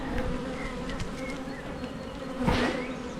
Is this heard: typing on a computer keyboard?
no